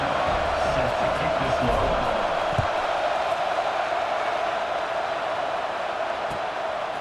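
Stadium crowd in the video game EA Sports College Football, a steady, fairly loud wash of crowd noise with a muffled voice underneath, holding at an even level.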